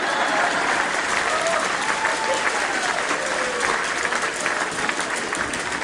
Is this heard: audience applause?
yes